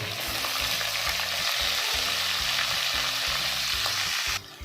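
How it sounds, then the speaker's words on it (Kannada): Sliced onions, mustard seeds and curry leaves sizzle loudly in hot oil for a brinjal curry, a constant bright crackle with rhythmic stirring scrapes throughout, cutting off abruptly at the end. "ಆಯಿಲ್ ಬಿಸಿಯಾಗಿದೆ ಇದರ ಸ್ವಲ್ಪ ಸಾಸಿವೆ ಕರೆ ಲೀವ್ಸು ಎರಡು ಆನಿಯನ್ ಹೀಗೆ ಸ್ಲೈಸ್ ಮಾಡ್ಕೊಂಡು ಹಾಕೋಬೇಕು"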